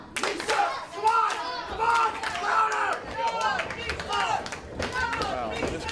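An arena crowd of WFC fans reacts noisily to the Johnnies team, with rising shouts, jeers and scattered clapping coming in uneven close waves.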